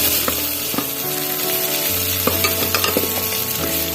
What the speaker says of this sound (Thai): ใส่ไปแล้วก็ผัดผัดนิดหน่อยค่ะ